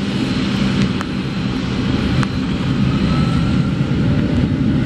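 A Boeing 757 airliner on runway 24 left at Montreal airport gives a steady, loud broadband jet roar that holds at a constant level throughout, with no talk.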